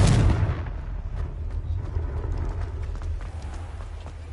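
A Confringo explosive spell is cast in the video game Hogwarts Legacy: a loud booming blast up front, followed by a rumbling, crackling tail that fades gradually.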